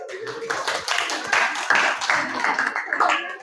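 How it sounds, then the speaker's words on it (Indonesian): Students in a physics classroom clap together in a short burst of scattered applause, close and moderately loud, mixed with voices talking. "Oke, kasih aplaus dulu."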